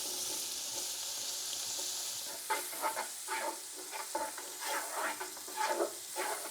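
Onions frying in butter and bacon fat in a pan, a soft continuous sizzle joined by scraping, stirring clatter in the second half, with no talking.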